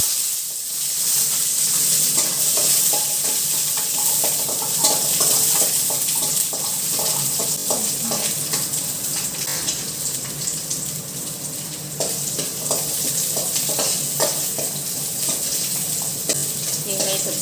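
Onions sauté in a pan for mint chutney, a continuous sizzle broken by scattered stirring scrapes and clinks, fairly close and steady throughout, with no voices.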